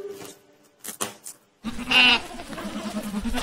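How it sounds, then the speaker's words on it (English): A goat bleats loudly and closely, one sustained wavering call lasting over a second, preceded by a few brief quieter sounds. "Goat says mama."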